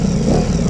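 A warmed-up Ducati Multistrada V4 RS motorcycle engine revving, a loud, close, sustained growl over a very short moment.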